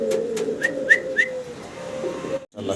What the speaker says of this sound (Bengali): সিঙ্গেল এক পিস লাহোরির নর, কতটা অ্যাক্টিভ দেখেন, মানে সেই লেভেলে ডাকাডাকি করতেছে